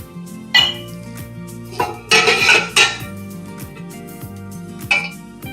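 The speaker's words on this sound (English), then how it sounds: "now I'm filling my soup bowls" Ceramic heat-proof soup bowls clink and knock against one another as tomato basil soup is ladled in, several sharp clinks and clatters at irregular intervals over a steady low hum, close by.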